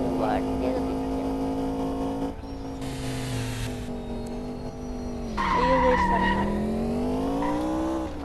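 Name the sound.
car tires skidding while turning in a video game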